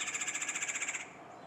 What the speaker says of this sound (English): Hey, you hear that, woodpecker?